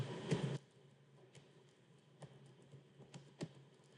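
Fingers typing a password on a computer keyboard, a few sparse, quiet clicks and taps spread irregularly, with one louder burst of keystrokes at the start, in a quiet room.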